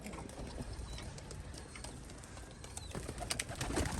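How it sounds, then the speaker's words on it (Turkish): A pigeon coos softly amid outdoor ambience, with faint rustling and a few clicks nearby; the bird's low murmuring call sits under general background noise. "Şu kuş."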